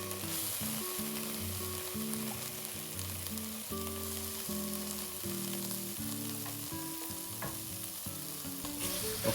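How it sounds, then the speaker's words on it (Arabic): Spices and onion fry and are stirred in tomato paste in a pot for an Indian butter chicken soup, a steady close sizzle running throughout with faint music in the background. "أقلب البهارات ويا البصل، وأضيف 5 حواشيق أكل صلصة الطماطة أو تقريبا ربع كوب"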